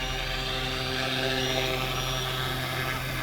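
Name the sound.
Fly Wing FW200 GPS RC helicopter landing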